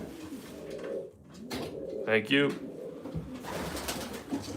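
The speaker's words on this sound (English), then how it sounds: "Pigeons on command." Pigeons in a loft at night give a soft, throaty coo that rises in the middle, set among rustling and low murmurs, with a person briefly speaking nearby.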